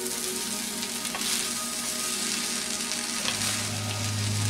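Beef fried rice stir-frying in a wok gives a loud, steady sizzle that hisses on without a break, with no voices over it.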